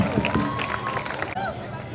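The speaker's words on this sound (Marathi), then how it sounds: "एकदा त्याच्यासाठी जोरदार टाळ्या होऊन जाऊ द्या." An audience at a college festival stage event applauds and cheers loudly for a performer, a dense, continuous wash of clapping and crowd noise with a host's voice heard over it.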